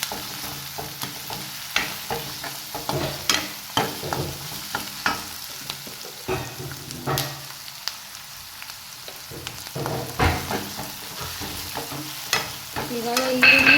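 Chopped onions with a little salt fry in a tempering of oil in a pan while a spoon stirs them, giving repeated scraping strokes over a soft, steady sizzle, with no talking.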